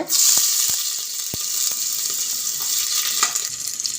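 Small onions sizzle and fry steadily in hot oil in a pan for tomato rice, a close, continuous hiss with a few sharp clicks of a spoon stirring near the start, and no talking.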